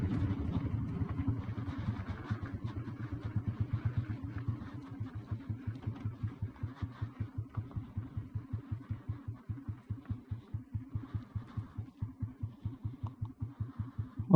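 An old petrol Royal Enfield Bullet motorcycle engine running close by, with a steady low thumping idle whose pulses grow more distinct and evenly spaced as it settles, ending in a sudden louder bump.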